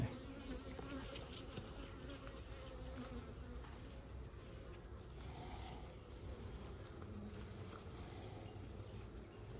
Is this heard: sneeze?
no